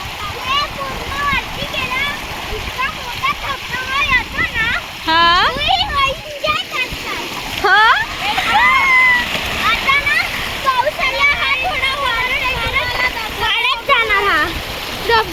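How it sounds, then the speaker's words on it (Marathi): A small waterfall near Lonavala splashes and rushes steadily in the background while adults and someone talk over it. "छोटा धबधबा आहे"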